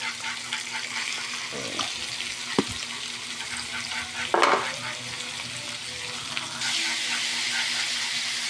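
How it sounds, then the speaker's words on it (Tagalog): Pork liver stirred into frying pork belly for Bicol-style igado, a steady close sizzle with a few sharp spatula knocks and scrapes, and a brief splash of liquid midway. "Pwede na ihalo yung atay."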